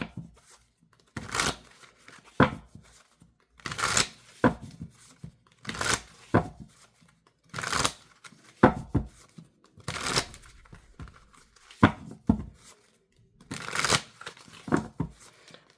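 Playing cards shuffled again and again in quick riffling bursts, roughly every one to two seconds, each a crisp papery rush with brief gaps of quiet between them, close and clear with no voices.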